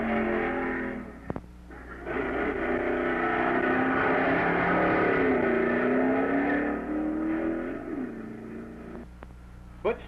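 At an NHRA drag racing event in Kansas, a race car launches and accelerates down the strip at over 120 mph. Its engine roars loud and rising with shifting pitch for several seconds before fading.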